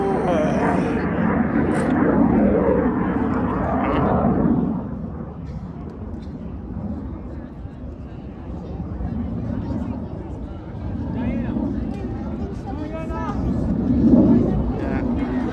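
Thunderbirds jet roaring on full afterburner at the 2024 Columbus air show, a loud continuous rumble that swells, eases and builds again, with people talking nearby.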